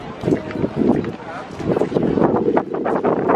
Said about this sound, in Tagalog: Mahangin lang, di marinig.